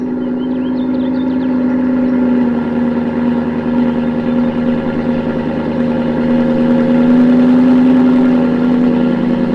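BMW E90 M3 V8 cold start with exhaust valves open, a steady, loud high idle rumble held close and constant throughout, with no voices.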